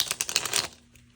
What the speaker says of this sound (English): Let me do a couple more shuffles on these.